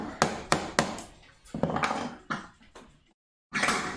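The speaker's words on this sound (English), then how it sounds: "let's just go ahead and take it off, corners off with a chisel" A hand chisel knocks the corners off a wooden bookend piece in a workshop, sounding as a run of sharp, close strikes and scraping cuts at an uneven pace, then a brief pause followed by more cutting.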